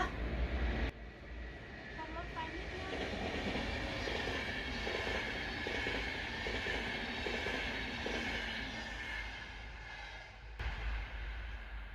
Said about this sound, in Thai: อุ้ยเสียงรถไฟมาค่ะ